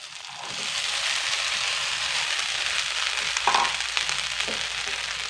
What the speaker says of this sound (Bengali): এবার ভাতগুলো দিয়ে দেবো